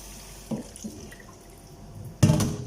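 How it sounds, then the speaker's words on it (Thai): Water sprayed over soaked sticky rice to rinse it, heard as close splashing and dripping in short bursts, with a louder gush of running water near the end. "ฉีดน้ำผ่านนะคะ เพื่อให้ ล้าง ข้าวเหนียวเพื่อให้มันไม่เหม็นเปรี้ยวค่ะ"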